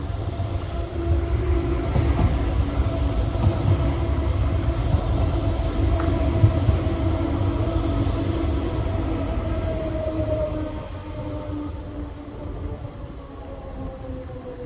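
Train at Basel Badischer Bahnhof railway station, a loud steady rumble of rolling rail wagons with humming tones and a brief squeal, continuous for most of the stretch and easing slightly toward the end, no talk.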